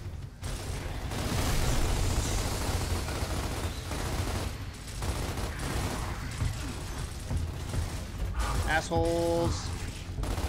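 Gunfire bursts and explosions in Gears of War, including a thrown frag grenade, rumble loud and dense throughout, with a voice shouting over the combat.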